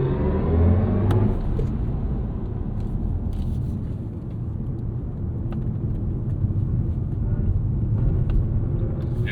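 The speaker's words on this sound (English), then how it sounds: "all cars coming to pit" BMW performance cars, including an M2, i5 M60, M4, X4 M and Z4 M40i, roll into the pit lane at the BMW Performance Center track, giving a steady close engine rumble that fades slightly midway without a break.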